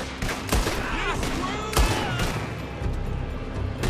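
Gunshots and blasts in a Red Dead Redemption 2 shootout, several loud cracks and volleys scattered over a few seconds amid a busy background.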